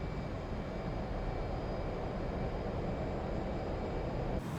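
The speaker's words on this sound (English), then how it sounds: "And then we go full afterburner." An F/A-18C Hornet jet engine roars at full afterburner in the DCS World flight simulator, a dense, steady broadband rumble with a faint whine above, constant and loud until it cuts off abruptly at the end.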